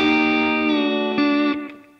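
Slide guitar played without right-hand muting, so the open strings keep ringing alongside the slid note in a dense, sustained chord that fades out near the end; no voice.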